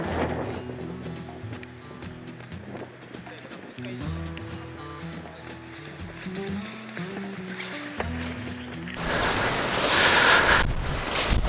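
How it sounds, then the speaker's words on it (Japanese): Wind gusts across the microphone at a seaside cape near a lighthouse, a steady rushing roar that swells louder near the end, heard beneath people talking. "今のところ風そんなじゃないよね"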